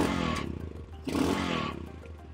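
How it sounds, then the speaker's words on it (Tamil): The exhaust of a Royal Enfield Scram 440 motorcycle sounds in two quick rev blips close by, a throaty rising burst, a short dip, then a second longer swell. "ஸோ இதுதான் இந்த வண்டியோட எக்ஸாஸ்ட் நோட்டு"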